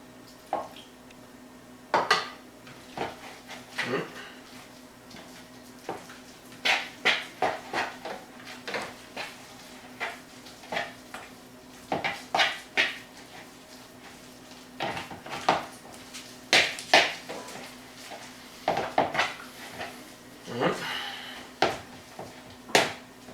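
Coco bread dough being mixed in a bowl, with repeated irregular knocks and scrapes of utensil against the bowl at a steady working pace, close and fairly loud, with no talking.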